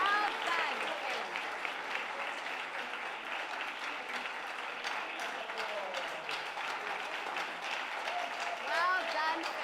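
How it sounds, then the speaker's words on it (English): A crowd at a school reading contest applauds a contestant, the dense clapping running unbroken for nearly ten seconds with a slight swell near the end and some voices under it. "Let's give a round of applause to Finn."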